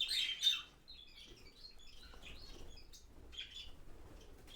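Breeding cock birds in an aviary chirp and tweet in short, bright calls, loudest in a brief burst at the start and then scattered more softly over a low, quiet background.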